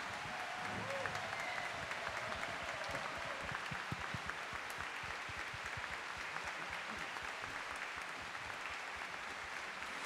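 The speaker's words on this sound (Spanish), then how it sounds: "un forte aplauso para a Banda Municipal de Santiago de Compostela" An audience at a Santiago de Compostela concert gives sustained, even applause for the municipal concert band, a steady wash of clapping from a large crowd lasting throughout.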